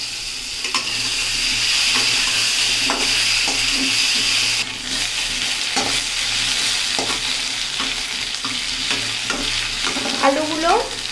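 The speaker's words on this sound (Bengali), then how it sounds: "আর দিয়ে দেবো একটুখানি সরিষার তেল।" Mustard oil sizzles and crackles steadily in a hot pan, a dense, close frying hiss with occasional utensil clinks and stirring scrapes, no voices.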